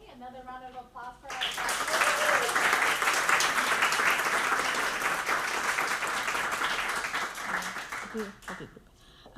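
A crowd at a Boston immigrant graduation ceremony applauds graduates in a loud, sustained burst. Brief speech comes before and after the clapping.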